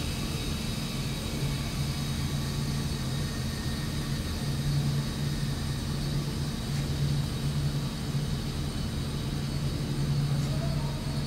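Steady, continuous mechanical hum of compressed air flowing into a mini-scale compressed air energy storage system inside a building, a constant close drone with a low tonal line and no talk.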